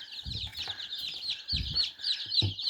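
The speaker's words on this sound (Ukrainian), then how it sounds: "Ось такі китайські пухові ціпульки." Chinese silkie chicks peep in a rapid stream of high, shrill calls close by, with soft low thumps and rustling underneath.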